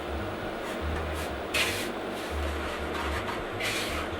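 Sugar, baking powder and salt are stirred together in a bowl, giving soft, uneven scraping and rubbing strokes that come in short bursts, close by.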